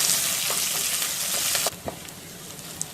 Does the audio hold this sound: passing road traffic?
no